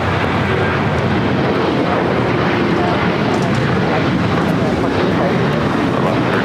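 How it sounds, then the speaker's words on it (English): An Alaska Airlines Boeing 737-800 rolls down runway 25 right at LAX, a loud, continuous broadband engine roar that holds steady and dense for the whole stretch. "Alaska Airlines flight 1352 heading to San Jose, Costa Rica, 737-800, now rolling down 25"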